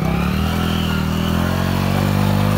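A Hero Splendor motorcycle engine drones loudly and continuously while riding off-road, its rough mid-pitched revving holding steady and rising slightly toward the end, close by and with no talking over it.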